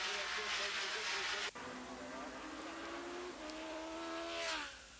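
Superbikes race past on a road racing circuit, engines whining loudly with rising and falling pitch as machines sweep by on the banking, a sharp cut midway and another bike fading near the end, with commentary over the noise.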